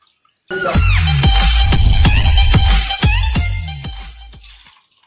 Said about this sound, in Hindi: अब अपने हस्बैंड का पैर धो रही है।